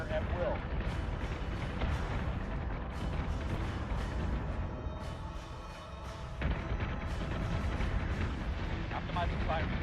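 Spaceship artillery fire during a fleet battle in the Battlestar Galactica Deadlock video game: dense, rumbling booms and blasts roll on continuously, heavy and loud, with clipped radio-style voices over the barrage.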